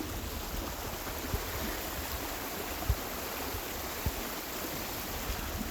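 Rainwater stream rushing outdoors with a waterfall after heavy rain, a steady broadband roar of flowing water throughout, with a few faint thumps.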